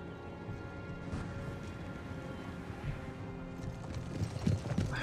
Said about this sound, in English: Household cavalry.